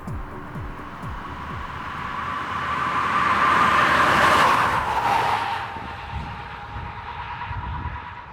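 Ford F-450 pickup with the 6.7-liter engine, unloaded, revving as the throttle is blipped, the roar climbing to a loud peak midway and easing off again, with a steady mechanical drone throughout and no talking.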